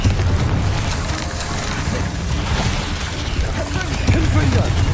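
Confringo blasting-spell explosions in the video game Hogwarts Legacy, a loud, continuous booming rumble with dense low-end bursts filling the whole stretch.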